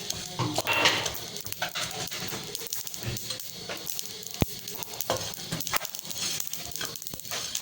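Whole spices lightly dry-roasting in a pan for tamarind chutney, a soft uneven crackle with occasional clicks and stirring scrapes, close and fairly quiet.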